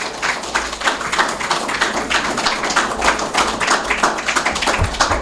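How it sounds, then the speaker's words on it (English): Applause from an audience for assistant ministers, a dense, even patter of many hands clapping that runs unbroken at full strength throughout. "Let us give our assistant ministers a round of applause."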